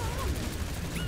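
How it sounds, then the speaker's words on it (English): Pharah's rocket barrage ultimate in Overwatch on Nintendo Switch, a rapid dense stream of rocket fire and explosions blurring into a continuous roaring, rattling barrage, loud and unbroken. "Rocket barrage incoming."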